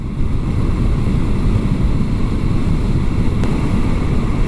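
Steady, loud wind buffeting and roaring against the microphone while riding a Kawasaki Vulcan S cruiser motorcycle with a Ninja-derived engine, continuous broadband rush with no speech.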